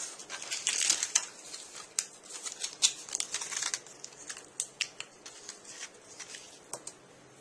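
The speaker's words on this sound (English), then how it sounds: "So now take your scissors and then just cut off the ends." Scissors snip through small model jetway parts for an Airbus A380 airport model, trimming the ends in a quick run of close, crisp cuts with light papery crinkling between them.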